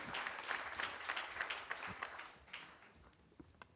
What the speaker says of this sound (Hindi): जोरदार तालियां बजा दीजिए सर के लिए